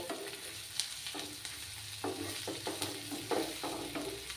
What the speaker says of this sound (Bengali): আরও কিছুক্ষণ লাল করে ভেজে নেব।